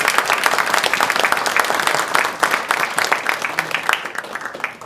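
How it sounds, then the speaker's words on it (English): An audience at a village awards dinner applauds steadily, a dense roomful of clapping that stays loud throughout and thins slightly toward the end. "give a special round of applause and appreciation to our most valuable player"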